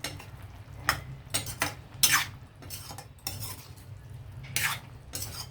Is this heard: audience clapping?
no